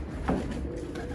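A pigeon gives a short, soft coo, close by against a low background hum.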